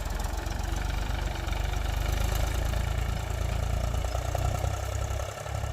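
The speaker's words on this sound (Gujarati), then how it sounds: "ટ્રેક્ટર ચાલુ કરી નાખ્યું છે હવે વાવવાનું જોઈ લો" A tractor engine runs steadily on a farm field before chickpea sowing, a constant low rumbling idle that stays close and even throughout with no talk.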